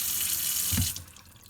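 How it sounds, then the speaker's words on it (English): Tap water pours steadily into a pot for chicken broth, a loud rushing stream filling it to the brim, then cuts off and fades near the end. "I'll just add a little bit more water."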